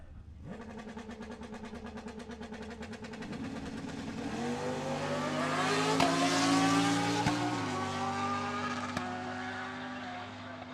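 Drag racing car making a time run at a racetrack, a loud engine roaring and building as it launches, pitch climbing through gear changes over about ten seconds, with faint crowd and announcer voices in the background.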